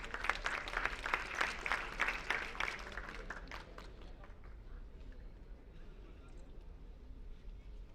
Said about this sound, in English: let's give a huge round of applause and welcome our next performers onto the stage